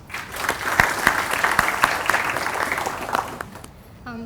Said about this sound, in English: Please give her a huge round of applause